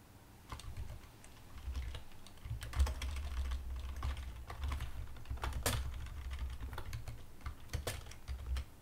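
Typing on a computer keyboard, close and quiet, with irregular bursts of soft key clicks and occasional sharper keystrokes running throughout.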